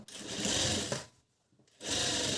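A sewing machine stitches through cloth in two steady motor-driven bursts, loud and close, with a short pause between them.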